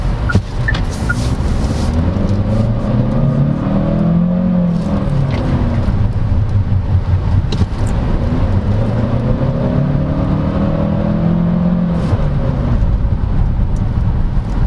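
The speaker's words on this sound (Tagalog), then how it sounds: "So finally driving the Tiggo 7 Pro Hybrid." A 2024 Chery Tiggo 7 Pro Hybrid crossover cruising on a highway, a steady loud interior drone of road and engine noise with slowly rising and falling tones, no talk.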